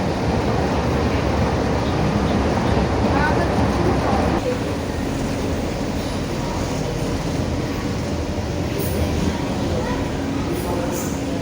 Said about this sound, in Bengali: এইটা একটা মেট্রো স্টেশন, নাম সানামচাই।